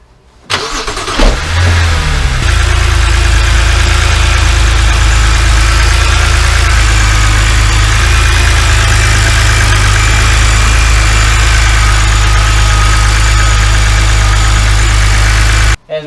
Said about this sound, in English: So let's start the car and see.